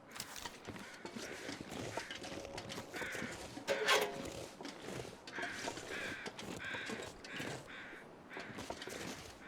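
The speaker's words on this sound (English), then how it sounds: "I hear you, crows." Crows caw repeatedly at a distance over a busy background of clicks and rustling, with one louder caw standing out midway, in the video game The Long Dark.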